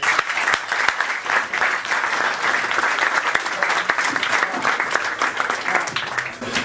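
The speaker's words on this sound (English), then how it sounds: "how about a round of applause?" Steady, full applause from an audience at a DemoCamp tech demo event in Calgary, dense clapping that keeps going without a break for several seconds, fairly loud and unaccompanied by talk.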